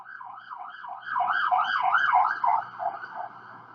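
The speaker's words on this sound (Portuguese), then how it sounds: "Deixa passar a ambulância" An ambulance siren wails in repeating rising and falling sweeps, growing louder partway through as it passes close by, with no talk over it.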